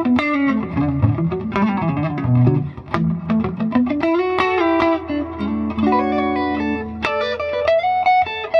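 Electric guitar played through a reissue silverface Fender '68 Custom Twin Reverb amp with reverb switched on and treble near 8, ringing chords and picked single notes with a bright, cutting edge and reverb tail, steady and loud, no talking.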